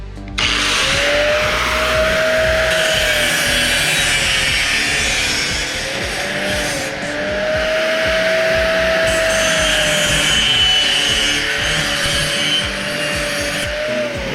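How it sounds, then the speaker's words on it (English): A Hercules angle grinder fitted with a metal cutting blade slices through junk metal, a loud, steady, high-pitched grinding whine that runs nearly unbroken for the whole stretch, close up and with no voices. "It shows the power and the capability of this Hercules angle grinder with a metallic cutting blade on it from"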